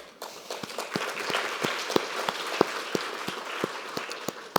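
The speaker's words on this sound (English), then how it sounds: "Thank you to a man for starting that clap." At a talk on women's health, one person claps in a slow, steady beat of distinct, separate claps, joined by lighter scattered applause from the audience.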